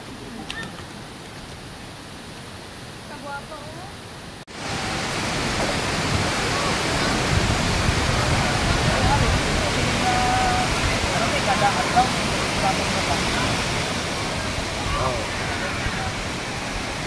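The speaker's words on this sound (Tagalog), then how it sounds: "At sa wakas, dito na rin kami sa ibaba ng Daday Falls mga boss." Daday Falls waterfall heard from below, a steady broadband roar of falling water that starts quieter and swells to a loud, continuous rush after a few seconds, with no voices over it.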